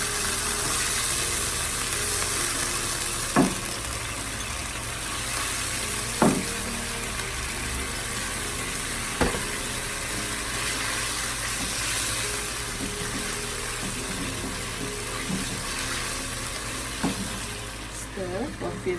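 Garlic, ginger and sauce sizzle steadily in a stir-fry pan for chicken with pineapple and cashew nuts, a constant crackling fry with occasional sharp clinks of a utensil against the pan.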